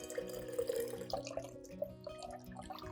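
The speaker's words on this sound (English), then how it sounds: "I also filter the garlic mixture in the same way, removing all the residue and keeping only the clear liquid" Liquid from a garlic mixture being filtered for orchid fertiliser, a faint steady trickle and drip of clear liquid pouring through a strainer, quiet and close with no voices.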